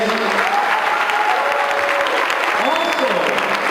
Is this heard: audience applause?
yes